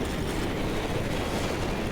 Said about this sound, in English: It's windy out here.